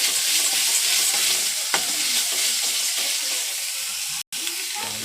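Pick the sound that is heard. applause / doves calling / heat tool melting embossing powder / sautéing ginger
sautéing ginger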